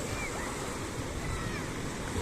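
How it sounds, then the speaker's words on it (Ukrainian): Ocean surf washing against rocks on the Tenerife coast, a steady broadband rush of water with wind noise, moderately loud and continuous with a slight swell at the end. "Ось дивіться, йде хвиля."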